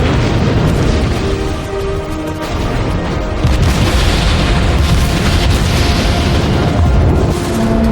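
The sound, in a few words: naval warfare explosions from video game World of Warships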